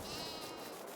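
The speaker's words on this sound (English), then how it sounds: "hey sheep" A sheep in a farm field gives one drawn-out, wavering bleat that fills the brief moment, close and clear with nothing else heard.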